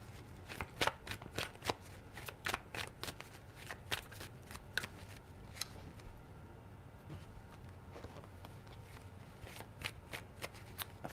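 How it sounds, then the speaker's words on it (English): Tarot cards are shuffled close up and quietly, with repeated crisp riffling bursts and soft slaps in an irregular rhythm, no talking over them. "Four shuffles."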